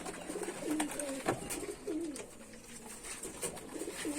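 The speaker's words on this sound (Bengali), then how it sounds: "দেশি পায়রাও দেখাও।" Native domestic pigeons coo in soft, repeated low rolling calls, fairly close but quiet, over a faint background hiss with no voices.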